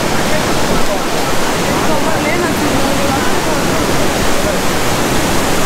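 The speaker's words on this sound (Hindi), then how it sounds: "मंदाकिनी नदी है यहाँ पे।" The Mandakini River near Kedarnath rushes loudly beneath Rambara Bridge in a dense, steady roar of churning water, heard close up and continuous with no breaks.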